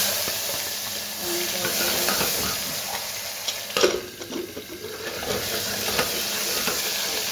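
Cumin, asafoetida and onion sizzling hard in hot oil with mustard seeds, a dense continuous hiss and crackle with a brief clatter of stirring in the middle.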